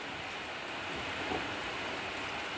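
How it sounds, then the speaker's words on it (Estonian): Steady outdoor rain mixed with a little hail, a dense even hiss of drops striking surfaces, moderately loud and constant with no voices. "sellise rahekaga vihmaga."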